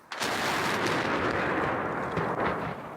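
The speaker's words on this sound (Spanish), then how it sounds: "un grupo de periodistas han sido testigos de un ataque con disparos de artillería" Artillery fire during an attack on Chernihiv, a loud sustained barrage of booming blasts and rumble that runs through the whole stretch with no voices.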